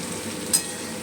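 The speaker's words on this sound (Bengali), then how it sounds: "আলুগুলোকে বেশ লাল লাল করে ভেজে নেব।" Boiled potatoes dusted with turmeric fry in oil in a pan, giving a brief, steady, moderately loud sizzling hiss with one small sharp spike midway.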